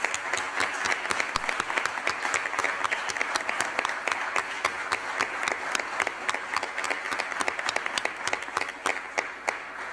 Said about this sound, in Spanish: vamos a dar un fuerte aplauso porque estamos todos muy satisfechos